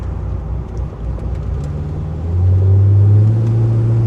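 A Corvette engine drones low and smooth from inside the cabin while driving, then swells into a louder, deeper rumble as it accelerates partway through; no voices.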